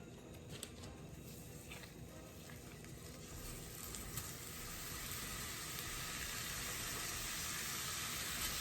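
Jimmy Dean pork sausage frying in a pan for a breakfast casserole: a steady, faint crackling sizzle that thickens and grows louder toward the end, with no talking.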